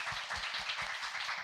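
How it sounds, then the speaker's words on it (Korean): An audience claps together in a brief, fairly faint burst of dense applause. "박수 한번 칠까요?"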